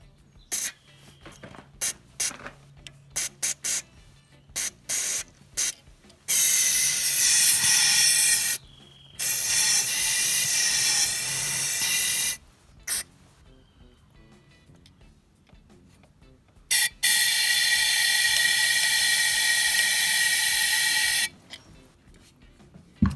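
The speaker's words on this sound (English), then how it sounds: "we'll just spray it with some chem tool" Several bursts of carburetor cleaner spray hiss close by onto an old generator's carburetor, some short and some lasting a few seconds, separated by quiet gaps and faint handling noises.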